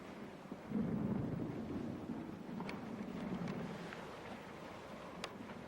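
Stormy weather from a river scene with low rumbling thunder and wind noise, a steady muffled roar with a swell near the start and faint crackles, no talking.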